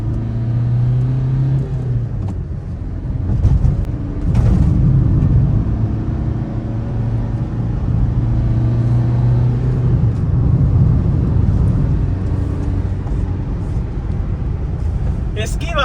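A Maruti Suzuki Ritz hatchback with a diesel engine rumbles and revs steadily up close, its low drone rising and falling, while someone talks over it throughout.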